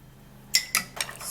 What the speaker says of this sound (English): So now we're gonna stir it.